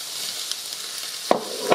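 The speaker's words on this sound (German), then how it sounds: "die Schinkenwürfel werde ich jetzt gleich gemeinsam mit dem Zwiebel leicht anbraten" Ham cubes and onion sizzle gently in a pan, a soft steady frying hiss broken by two sharp utensil scrapes or clinks as the food is stirred.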